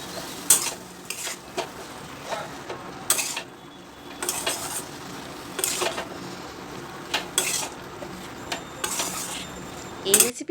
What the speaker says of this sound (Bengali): এই ভেজে রাখা সবজিটা মশলার সাথে এবার ভালো করে কষিয়ে নেব